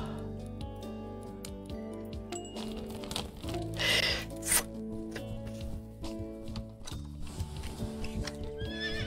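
A horse in the Animal Shelter video game whinnies loudly in the middle of the stretch, with hooves clopping in a steady rhythm before and after, alone without talk.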